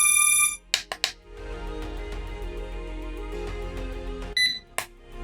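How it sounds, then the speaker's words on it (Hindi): A drone remote control switches on with a short electronic tone at the start, then a series of tonal beeps and chimes over a low hum, ending in another brief beep sequence. "एक बीप का साउंड आएगा और देन ये ऑटोमेटिकली टर्न ऑन हो जाएगा"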